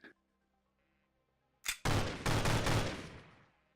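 Gunfire in the VR shooting game The Technician: a short sharp shot, then a rapid burst of loud close shots rolling together and fading out.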